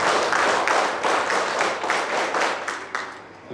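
A theatre festival audience gives a rhythmic school clap on a count of three, about eight sharp, evenly spaced group claps in a steady beat that gradually softens.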